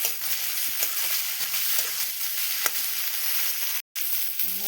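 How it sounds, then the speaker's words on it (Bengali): Dried fish frying in hot oil in a pan, a close, steady crackling sizzle with a few small clicks, briefly cutting out near the end. "এখন আমি পুরা মাছটা দিয়ে দিলাম, দিয়ে আর কি তেলের মধ্যে একটু ভাজা ভাজা করে নেবো।"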